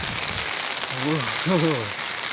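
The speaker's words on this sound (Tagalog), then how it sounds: "kita naman natin lumalakas ang ulan" Heavy rain pours steadily in the mountains, a dense, even hiss that swells slightly over its short span, with a voice briefly sounding over it near the middle.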